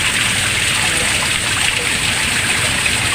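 Water pours steadily from a submersible pump into a wishing well, a continuous bright rushing wash that stays close and loud throughout with no pauses.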